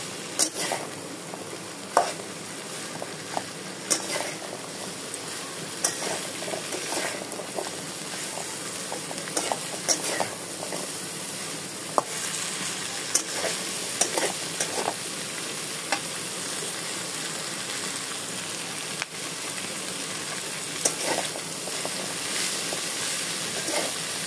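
Taro stolons stir-fry with small shrimp in a pan, a steady close sizzle that holds for a long stretch while the spatula scrapes and taps at irregular intervals.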